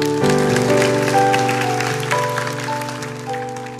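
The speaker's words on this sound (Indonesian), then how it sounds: "Kasih tepuk tangan untuk Tuhan Yesus" Applause rises from a church congregation during a sermon service, steady clapping close by, layered over sustained organ or keyboard chords that continue throughout.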